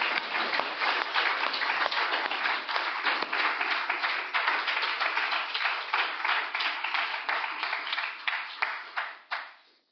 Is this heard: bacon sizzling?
no